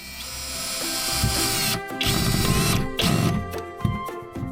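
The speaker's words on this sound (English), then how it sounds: "Let's pre-drill first." A power drill whirs at high pitch in several bursts, with short pauses between, grinding and chattering as it pre-drills into wood, close and fairly loud.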